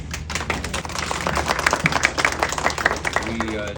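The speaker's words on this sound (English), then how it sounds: "Give yourselves a round of applause." An audience at the arc Thrift store gives a brief round of applause, a burst of close, crisp clapping with talk and crowd murmur running beneath.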